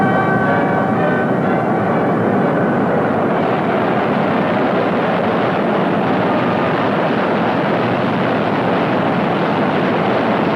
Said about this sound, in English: Preparation for flight included exhaustive testing of the aircraft systems and ground running of the engines.